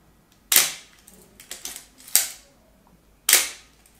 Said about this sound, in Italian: Questo è lo scatto, un 125esimo di secondo.